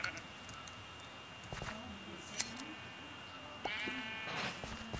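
Sheep in the Minecraft video game bleat several times with wavering, nasal calls over a quiet game background, along with a few soft clicks.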